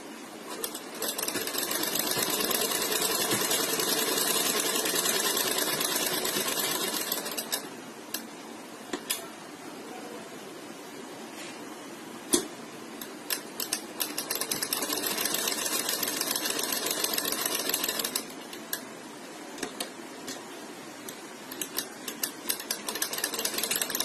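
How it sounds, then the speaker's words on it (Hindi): A sewing machine stitches along a sleeve right beside the pasted edge, a rapid mechanical clatter in long runs separated by quieter pauses with scattered ticks, close by and without talk. "हम यहाँ से सिलाई शुरू करेंगे और पेस्टिंग के बिल्कुल साथ साथ सिलाई लगाएंगे"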